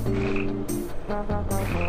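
In the ocean fish-growing game Tasty Blue, a frog gives loud, close, throaty croaks in two quick bursts within about two seconds, with no talk over them.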